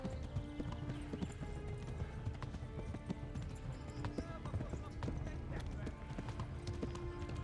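Horse hooves clip-clop in a steady fast rhythm while riding in the medieval video game Kingdom Come, under continuous game ambience and a low rumble, with occasional faint knocks.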